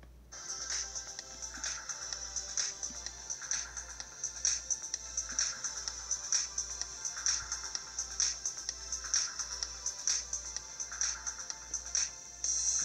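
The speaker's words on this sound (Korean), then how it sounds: "다음으로 음악을 재생해 보겠습니다." Music played through speakers and captured by a Turtle Beach Recon Spark headset microphone, heard as a moderately loud repeating melodic pattern with regular bright accents over a low hum.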